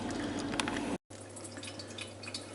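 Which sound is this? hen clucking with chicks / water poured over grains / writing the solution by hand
water poured over grains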